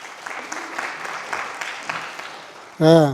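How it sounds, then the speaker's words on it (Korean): Scattered, moderate clapping from a congregation at a Korean church Sunday service in Berlin, welcoming a member back; the applause tapers off before a voice speaks briefly at the close. "박수로 환영하겠습니다"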